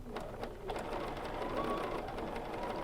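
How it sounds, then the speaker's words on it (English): A sewing machine runs steadily, stitching fabric to fill an area in a quilting technique, with a continuous close mechanical whir and faint rhythmic needle ticking. "When you get to your fabric, begin stitching what's comfortable."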